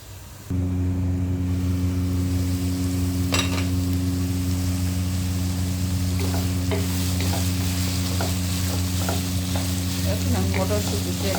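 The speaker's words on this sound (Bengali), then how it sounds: "ভালো মতো কষিয়ে নেব।" Food frying in a pan as it is stirred and cooked down, a constant loud sizzle with a steady hum underneath and intermittent clicks of a utensil against the pan, no talking.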